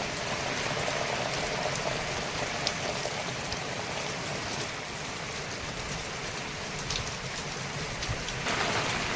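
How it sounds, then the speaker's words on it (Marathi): A stormy, unseasonal downpour with wind at night, a continuous loud wash of rain pattering and splashing on surfaces, unbroken and close. "आणि वादली वाऱ्यासह पाऊस बघा किती आला"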